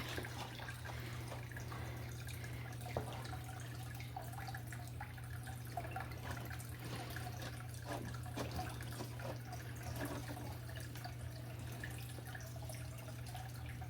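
Dirty water drains from a fish tank through a siphon into a bucket. Faint, steady trickling and dripping run over a low background hum.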